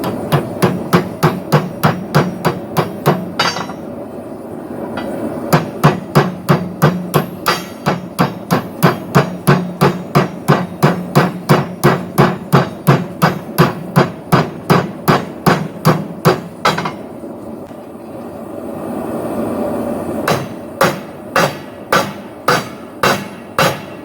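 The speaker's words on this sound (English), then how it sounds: "now I'm going to use my hammer here to basically close this" A steel forge weld is hammered shut in a long series of evenly spaced, ringing metallic blows, loud and close, with two brief pauses between runs.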